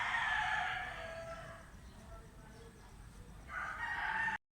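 A fighting rooster crows loudly up close at a farm in Cebu, two drawn-out calls separated by a quieter stretch of outdoor background noise.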